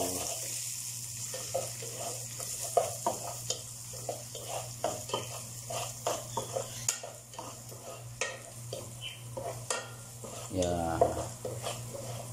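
Chopped spices for vegetable soup sizzle and fry in a pan while a utensil stirs and scrapes them in irregular bursts, close and continuous, with faint water running in the background.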